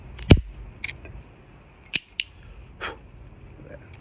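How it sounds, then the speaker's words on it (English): A V cutter notching the cap of an Illusione Rothschild cigar, with a sharp snap near the start and a few softer clicks and handling noises afterward, close and otherwise quiet. "Today we have the V cutter. Go ahead and put that in there."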